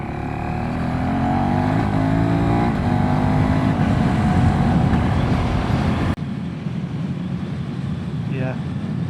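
A motorcycle with a small 390 engine being ridden, its engine note climbing through gears in a loud steady drone with wind rush, then dropping to a lower rumble after a sudden cut.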